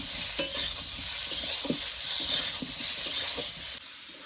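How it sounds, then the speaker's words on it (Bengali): Elephant foot yam and potato with dry chili paste and turmeric being stir-fried in a pan: steady close sizzling with repeated scraping stirs throughout, ending abruptly near the end, no talk. "শুকনো লঙ্কা বাটা আর হলুদ দিয়ে ভালো করে নেড়ে চেড়ে ওল আর আলুটাকে কষিয়ে নেব"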